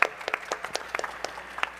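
Audience applause at a conference session on Web 3.0 gaming in Busan, scattered individual claps from a modest crowd rising and falling briefly, with no talk over it.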